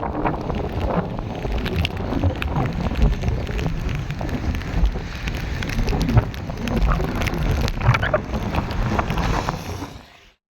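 Heavy continuous rain pours over flooded paddy fields in Ramanathapuram, a dense steady hiss and patter with gusts of wind noise, sustained throughout and close to the microphone.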